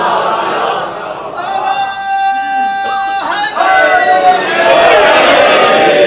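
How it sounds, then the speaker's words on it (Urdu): A large crowd at a Shia majlis chants a loud collective religious slogan, a swelling roar of many voices following a sustained cry from a speaker, close and reverberant. "تعداد زیادہ ہے نعرے دی آواز کم ہے"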